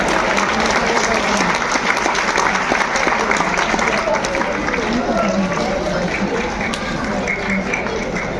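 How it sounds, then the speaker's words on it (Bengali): Loud, dense applause fills a Teachers Day prize ceremony in a school hall, many hands clapping continuously and close, with crowd voices mixed in throughout. "জোরে হাততালি।"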